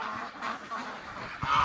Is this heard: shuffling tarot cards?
no